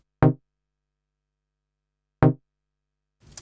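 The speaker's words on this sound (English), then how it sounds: "the sound we're going to be particularly focusing on is this analog pluck sound," Two short, dry, muted analog synth plucks from Logic Pro X's Retro Synth, about two seconds apart, each decaying quickly, followed by a faint soft noise at the end.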